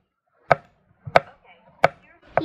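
Garlic being finely chopped with a knife, three sharp chops evenly spaced on a board, with a fourth starting at the end, close and distinct against near silence.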